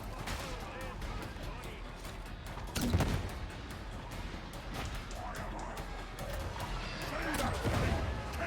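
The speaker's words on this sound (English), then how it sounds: "They are shooting me." Gunfire crackles through a Warhammer 40k: Darktide battle, with scattered shots and a louder burst near three seconds, sustained rattling bursts later, and a voice talking over the din.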